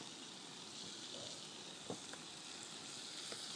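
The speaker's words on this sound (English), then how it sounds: "in my skillet over here, I've got some andouille sausage cooking up" Andouille sausage sizzling in a skillet, a steady soft hiss of frying with a couple of faint pops, heard alone and fairly quiet throughout.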